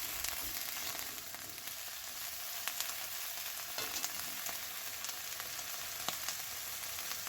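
Cauliflower pieces fry in oil in a pan for a Bengali cauliflower curry, giving a soft, continuous sizzle with faint crackles throughout, fairly quiet and heard alone without talk.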